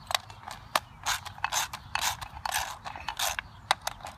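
A hand ratchet clicks in quick bursts while tightening the wheel bolts on a John Deere JX75 lawn mower, crisp close rattling strokes with brief pauses between them, no talking.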